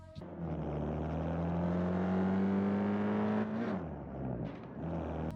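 Simulated car engine from the mobile racing game Drive Zone Online, a steady loud drone whose pitch climbs slowly through a long acceleration, then drops and revs again, with no talk over it.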